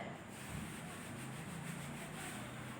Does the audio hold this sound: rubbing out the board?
yes